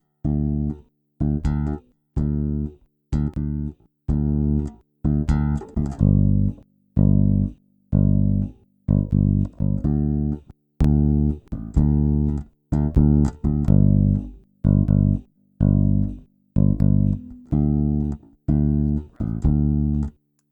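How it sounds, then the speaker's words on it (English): An electric bass runs through an Audioscape EQP-A equalizer that is switched out of circuit, playing a long run of evenly spaced, punchy plucked notes with firm attacks, loud and close, with no talking. "we're going to take it in and out of the circuit so we could hear what it sounds like just running a bass through it"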